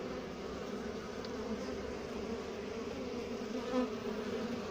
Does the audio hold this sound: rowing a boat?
no